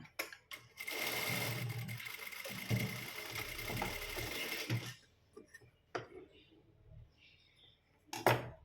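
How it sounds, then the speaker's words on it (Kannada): A sewing machine stitches a sleeve seam on fabric in a steady burst of about four seconds, then pauses before several shorter bursts of two back-and-forth lock stitches. The machine is close and fairly loud, with no talking over it. "ಇಲ್ಲಿ ಎರಡು ಸತಿ ನಾವು ಸ್ಟಿಚನ್ನು ಹಾಕೋಣ"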